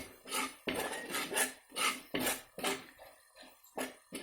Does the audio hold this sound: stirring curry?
yes